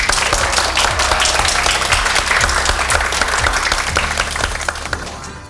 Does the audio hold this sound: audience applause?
yes